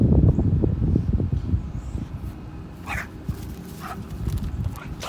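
Young dog whimpering and yipping while playing on grass, with a burst of close yelps and soft whines in the first seconds, then quieter intermittent whimpers and a few sharper cries.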